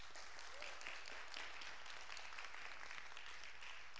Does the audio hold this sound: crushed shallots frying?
no